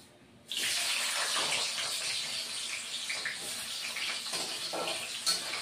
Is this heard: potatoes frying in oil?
yes